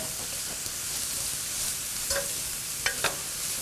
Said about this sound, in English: I'm just going to go ahead and saute this until the onions are translucent